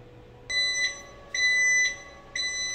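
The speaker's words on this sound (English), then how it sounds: "it's beeping. It looks like our toast is done" Three electronic beeps in a row from an Emeril French Door 360 air fryer signalling toast is done, each a steady high tone held for about half a second, close and clear with no talking.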